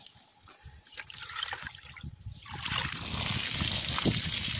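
Water sprays and trickles over vegetables being rinsed, a close, steady splashing that starts soft and grows louder and fuller through the second half.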